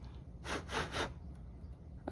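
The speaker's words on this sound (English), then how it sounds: "I'm sawing as I turn to kind of make the room, and now I can go straight across" A jeweler's saw cutting gold-filled metal for earrings gives three quick, soft rasping strokes in a row, close and fairly faint over a low steady hum, with no speech.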